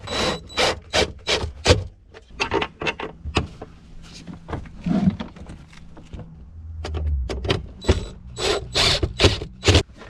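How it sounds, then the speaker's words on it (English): Screws are driven into a KEMIMOTO tablet holder on a Can-Am X3: a close series of short, scraping, ratcheting bursts with brief pauses between them, and no one speaking. "So we got all our screws started"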